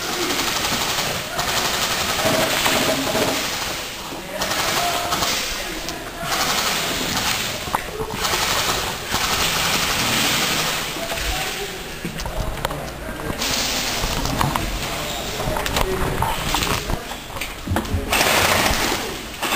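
Airsoft guns firing rapid full-auto bursts during an indoor close-quarters game, a dense, nearly continuous rattle of shots at close range with brief gaps, while players shout and talk over it.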